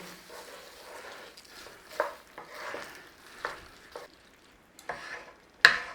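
Quiet, wet stirring of lentils in a pan, with soft scrapes at irregular intervals and one sharper clink of utensil against metal near the end.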